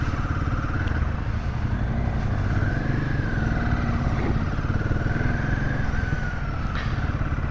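A motorcycle is ridden along the road with a steady, loud engine rumble and wind noise throughout, its pitch shifting slightly as the bike changes speed.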